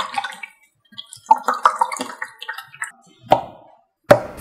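Wet, squelchy water-like sounds from playing with a fake-water slime: irregular close bursts of sloshing and dripping separated by short silences, ending in two sharper splashy pops.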